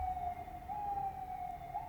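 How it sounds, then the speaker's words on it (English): A police car siren wails faintly on a street outside, a steady tone that rises slightly and holds, distant and muffled over low background rumble. "Much like the pigs are doing outside in their squeal-o-mobile. Constant police car action here on this street."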